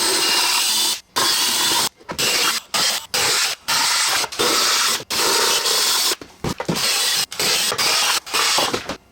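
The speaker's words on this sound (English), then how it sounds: "we have to drill out these stamped rivets" A loud power drill whirs in repeated bursts of about half a second to a second, stopping briefly between each, drilling out stamped rivets on a failed Maytag commercial washer transmission, up close with no talking.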